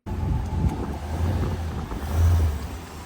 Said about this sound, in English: Rev that bitch.